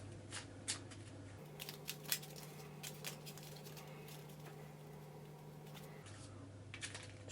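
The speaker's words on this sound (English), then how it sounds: "Now to shuffle this ridiculous deck." Board game cards from a very large deck being shuffled by hand for Eldritch Horror, soft irregular riffling and pattering taps, quiet and close, with a low steady hum underneath and no talking.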